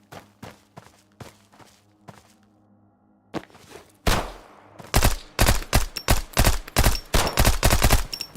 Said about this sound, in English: I like the rapid fire.